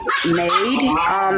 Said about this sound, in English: excuse if you hear dogs in the background